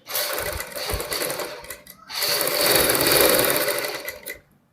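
A sewing machine stitches a blouse neck piece on buckram, running in a steady, loud mechanical whir that pauses briefly midway, then resumes and stops abruptly.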